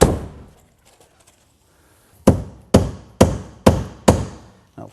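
Hammer blows drive cap nails through Tyvek HomeWrap into wall studs over foam. After a single opening hit and a quiet gap, five evenly spaced sharp, close strikes follow, with a final lighter tap.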